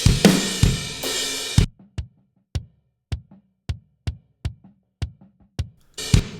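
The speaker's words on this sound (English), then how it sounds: "then you add a compressor to the kick just to tame it a little bit" A live kick drum, gated, EQ'd and compressed, thumps alone in a steady rhythm of short punchy hits after a brief burst of the full mix at the start, with the mix returning at the end.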